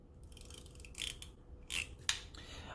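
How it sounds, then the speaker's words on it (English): Short dry scrubbing strokes of an eraser wiping writing off a board, three or four quiet bursts separated by pauses, close and faint in a quiet room. "But let me erase this here."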